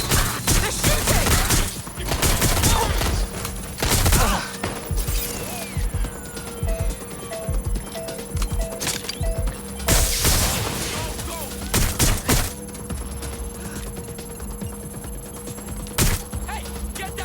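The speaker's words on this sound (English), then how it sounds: "Suspect shooting! Finding cover! They're shooting!" Enemy gunfire rattles through a Watch Dogs Legion shootout, repeated bursts of sharp shots coming in clusters over about seventeen seconds, mixed with shouted dialogue and a steady hum of game ambience.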